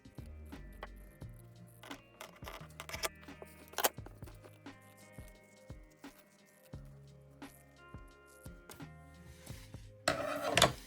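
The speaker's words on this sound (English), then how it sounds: "I'm now good to cut this piece out." Scissors snip out a piece of fabric for a crochet plushie, with a series of close, soft crunching cuts in uneven bursts and rustling handling between them.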